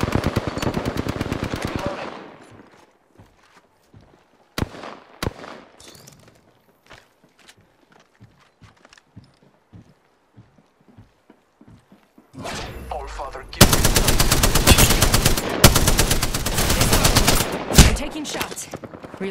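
Bursts of automatic gunfire in Apex Legends Arenas: a long rapid burst at the start, scattered single shots and footsteps through a quiet middle, then sustained loud rapid fire toward the end, with talk at times.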